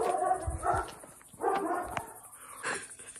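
A dog barks in short bursts outdoors, a few separate woofs spaced irregularly at moderate distance, with faint background ambience and no talk.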